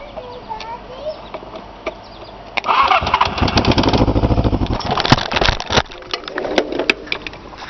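A 1980 Suzuki motorcycle engine cranks and catches, then runs loud and uneven with sputtering revs after a quieter lead-in, close to the listener.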